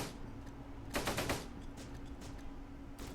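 Grenade blasts and gunfire in the WWII game Close Combat: Gateway to Caen during a multiplayer match. Faint, distant bursts of rapid shots and a louder cluster of explosions come in short clumps.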